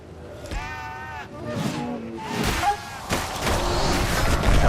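Sheep bleats from a creature in the video game Mortal Shell II, several wavering calls in quick succession, fairly close and loud, overlapping with someone talking and other game noises.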